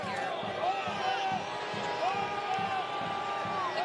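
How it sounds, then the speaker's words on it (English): A stadium crowd at a San Antonio FC versus Hartford Athletic soccer match murmurs and stirs in a steady mass under continuous commentator talk, with a few shrill tones cutting through. "The crowd not happy about it."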